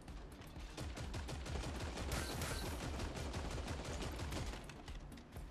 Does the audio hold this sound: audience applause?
no